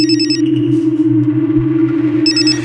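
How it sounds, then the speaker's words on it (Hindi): A phone rings with an incoming call: two bursts of bright electronic ringtone at the start and end, over a steady low hum and no talk. "ये दोपहर से चौथी बार फोन कर रही है स्वाति यार"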